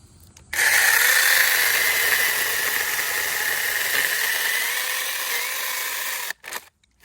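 A Sainlogic chainsaw with an unsharpened stock chain bites into a log roughly four inches thick, a loud steady buzzing whine holding for nearly six seconds before cutting off abruptly, followed by a couple of short sputters.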